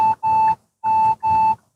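A Kia K5 blind-spot warning sounds as four short, clear electronic beeps in two pairs, close and alone inside the car.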